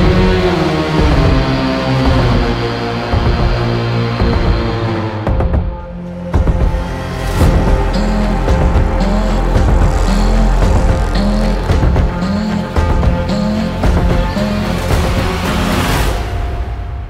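An orchestral score motif plays loud and continuous, a distorted guitar-amp tone doubled by synths over low orchestral strings in a steady, pulsing rhythmic figure with a brief break midway.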